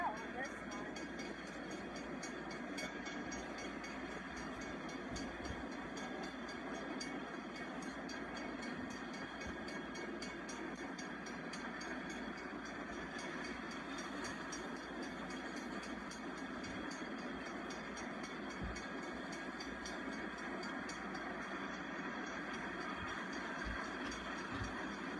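A coal train rolls past in Rogersville, heard from inside a vehicle as a steady, continuous rumble and rattle of railcars that holds for the whole stretch with no pauses.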